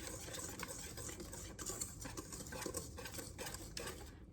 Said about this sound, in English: I'm just gonna whisk that together a little bit more here.